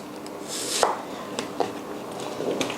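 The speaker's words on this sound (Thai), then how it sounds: "แล้วก็จะมา หั่น หอมใหญ่ก่อนเลยฮะ ผมจะหั่นให้เขาเป็น บรูนัวสฮะหรือว่าเป็นชิ้น เต๋าเล็กๆท่านั้นเอง" A kitchen knife chops onion into small brunoise dice for a beetroot borscht. Several scattered knife strikes on a cutting board sound close and moderately loud against a quiet room.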